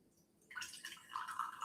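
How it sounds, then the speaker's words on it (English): An orange drink poured into a glass, a faint, short splashing and trickling stream that starts abruptly and runs for about a second, close by with no talking. "Pour it into my dab juice glass."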